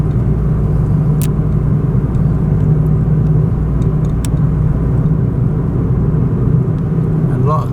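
Traffic on a main road beside the Mekong River in Bueng Kan, Thailand: a loud, continuous engine rumble and tire roar from passing vehicles, steady throughout with no break.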